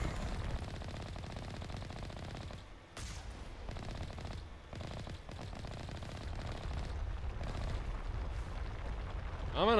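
Gunfire in the video game Mass Effect crackles in dense, rapid bursts with brief gaps, a steady loud barrage of shots.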